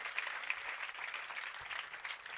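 A church congregation claps in praise during a sermon. The applause is steady and faint, sounding distant and filling a couple of seconds with an even wash of hand claps.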